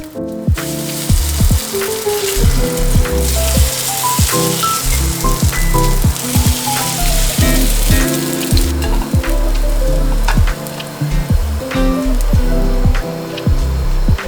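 Potato pancakes made from a runny batter fry in a hot pan with oil, giving a steady, loud sizzle and crackle throughout, with occasional clinks and scrapes from a spatula.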